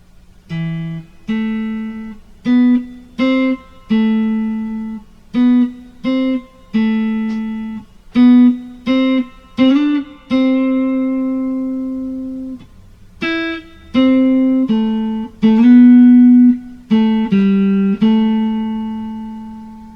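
A guitar in standard tuning plays a verse-chorus melody, plucked notes in short phrases with pauses between, some notes sustained and ringing, clear and close, no voices.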